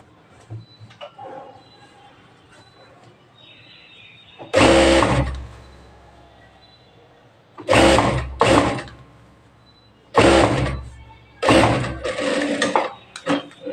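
Sewing machine stitching rubber elastic, running in several loud close bursts of rapid mechanical chatter separated by quiet pauses.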